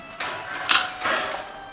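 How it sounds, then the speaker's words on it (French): A small machine called a sewing machine, used in a Sicilian puppet theatre workshop, gives a couple of short mechanical whirring bursts with a sharp clack in between, close by. "Ça c'est la machine à coudre, moi je l'appelle."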